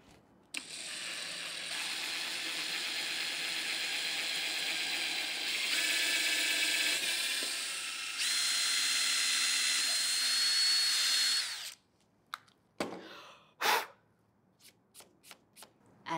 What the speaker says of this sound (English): And then we'll grab the drill and drill our holes.